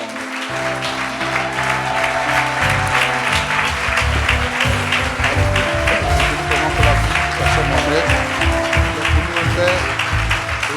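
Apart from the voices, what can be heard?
congregation applauding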